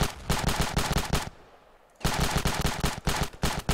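Rapid automatic gunfire in the video game Ravenfield, loud close bursts that cut out briefly for about a second before resuming in dense rattling volleys.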